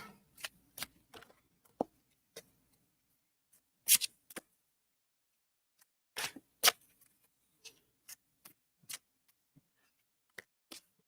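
A deck of oracle cards shuffled by hand in sparse, irregular bursts of crisp snaps and riffles, close and fairly quiet, with near-silent gaps between them.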